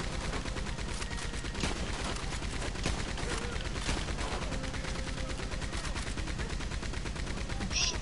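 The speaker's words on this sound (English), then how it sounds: "Someone's shooting." Dense, continuous gunfire from the video game Red Dead Redemption, rapid overlapping shots crackling throughout with a steady loud bed of noise and some faint voices mixed underneath.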